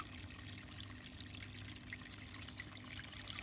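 Water trickles steadily down a bath toy waterfall during play with Disney Pixar Cars bath toys, a soft continuous stream with no talk, faint and close.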